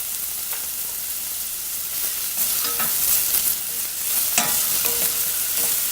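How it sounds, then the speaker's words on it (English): Finely diced onions sweating in olive oil in a pan, a steady close sizzle with occasional stirring scrapes and a few louder crackles, no voices. "We're going to put some finely diced onions and some olive oil. We're going to sweat them down."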